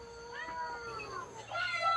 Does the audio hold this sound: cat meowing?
yes